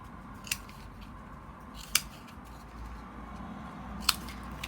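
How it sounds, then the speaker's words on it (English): Scissors cut paper for a craft project in a quiet room, with three short, separate snips spaced a second or two apart and no talking. "that's where I'm going to cut, and I'm just going to cut straight corner"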